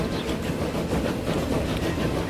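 A train rolls past in the Transport Fever 2 rail-building game, a steady dense rumble with rhythmic clickety-clack of wheels over track joints, loud and continuous throughout.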